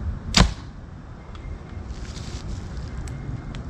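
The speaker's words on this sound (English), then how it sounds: "I'm gonna shoot a couple more and see what happens." An arrow is shot from a tuned bow through a sheet of paper, giving one sharp, loud snap-and-whoosh near the start before quiet outdoor background with faint later ticks.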